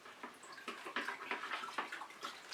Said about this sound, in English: And I do need to rinse my fingers off.